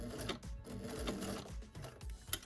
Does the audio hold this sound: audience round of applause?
no